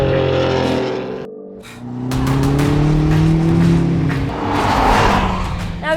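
A BMW M car's engine revs hard and close, a loud, rising snarl that drops after a brief break, then surges again through a couple of climbing runs.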